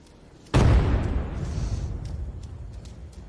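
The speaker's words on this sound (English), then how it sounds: "What was that explosion?" A single loud boom from an explosion in the video game The Culling, a sharp onset followed by a long decaying rumble that fades over a few seconds with no talk.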